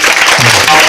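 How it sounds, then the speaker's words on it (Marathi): An audience at a Marathi comedy kirtan claps in welcome, a brief burst of dense, loud applause filling the moment, with a voice faintly underneath. "म्हणून टाळी वाजवून स्वागत करा."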